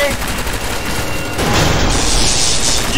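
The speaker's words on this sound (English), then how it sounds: "Grenade!" A grenade blast in an SCP video game, a loud booming burst swelling midway through amid continuous gunfire and rumbling chaos, played close and harsh with voices mixed in.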